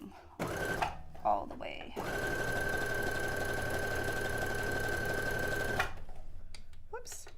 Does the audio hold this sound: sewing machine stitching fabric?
yes